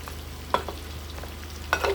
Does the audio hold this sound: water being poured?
no